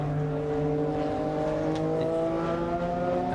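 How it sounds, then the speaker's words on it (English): Vintage racing cars in qualifying at Silverstone, among them a Pescarolo and a Dallara, howl around the circuit in a continuous, loud, layered engine drone with sustained high harmonics and no talking. "we can hear the cars howling around the circuit in the background."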